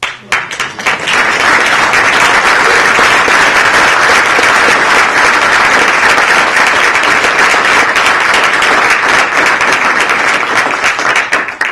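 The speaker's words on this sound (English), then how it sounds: "Could we have a round of applause?" Loud, sustained applause fills a school board meeting room, many people clapping in a dense, continuous roar that swells quickly and holds for over ten seconds before tapering at the very end, with no voices over it.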